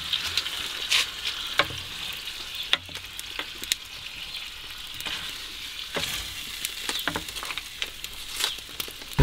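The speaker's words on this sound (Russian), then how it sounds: "Размешиваем." Soft sizzling of tomato sauce with onion frying in a pan, with scattered scraping taps as it is stirred, moderately quiet and close.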